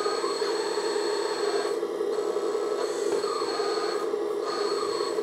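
A 1/14-scale RC hydraulic metal dumper raises and drops its snow blade, giving a steady, close electric hydraulic whine with brief dips and changes in pitch as the blade moves.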